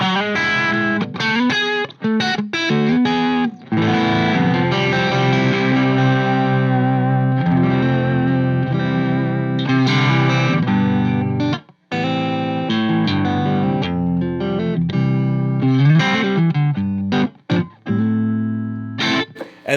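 Electric guitar through an amp's clean channel with a KMA Machines Pylon noise gate switched off, playing loud sustained chords and notes with a few brief drops to near silence between phrases, and no talking.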